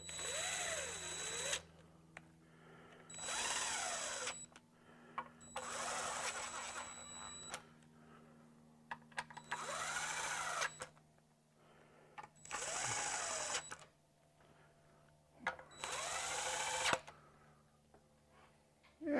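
A power tool running down the oil pan bolts on a C5 Corvette, in six separate whirring bursts of a couple of seconds each, close and fairly loud, with quiet pauses between them.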